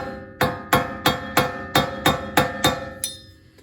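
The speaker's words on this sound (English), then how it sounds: "just work your way around with a wood chisel" An old wood chisel is worked around a seal during suspension, brake and wheel bearing work. It gives nine sharp, ringing metallic strikes in an even rhythm, loud and close, with no talking.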